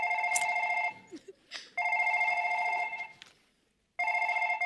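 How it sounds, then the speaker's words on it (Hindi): An electronic telephone ring sounds in three loud bursts with short pauses between them, a voice murmuring faintly in the gaps. "देखो बजा, मैं फोन बोला जैसे बजा।"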